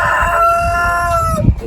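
Rooster crowing with a long sustained call among poultry at an outdoor trade-days market, followed by a low cluck; close and loud against crowd background.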